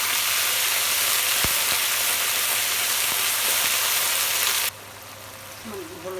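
A paste of ginger, garlic and cumin ground on a grinding stone hisses loudly in hot oil, a steady close sizzle that suddenly drops in intensity near the end.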